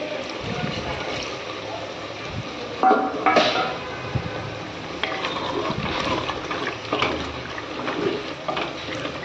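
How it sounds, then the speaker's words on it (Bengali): Water is poured into a pot of mutton kosha as it cooks, making a splashing, gurgling rush with a few louder bursts, and someone speaks over it. "এবারে আমি করব জল অ্যাড।"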